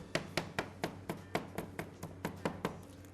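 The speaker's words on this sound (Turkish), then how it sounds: "maydanozlarımızı da ince ince hemen doğrayalım." A knife finely chops parsley on a board in steady, quick taps, about a dozen even strikes, close and fairly quiet, with no voices.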